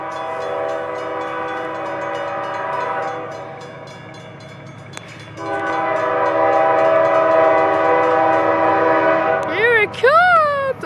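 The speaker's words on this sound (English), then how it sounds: "Big, loud horn." A passing train blasting a big, loud multi-tone horn, held long and close, briefly easing before surging back louder, with higher swooping tones near the end.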